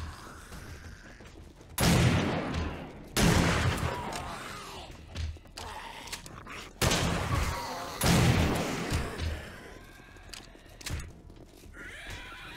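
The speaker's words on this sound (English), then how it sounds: "Get the odd stray shot on them." Scattered gunshots crack at a zombie horde in 7 Days to Die during a horde night tower defence, several loud bursts at irregular intervals with quieter rumbling and noise between them.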